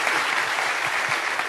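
Dense, steady applause from an audience at a Korean campus talk concert, welcoming a guest student from a neighboring university; continuous clapping fills the whole moment without speech.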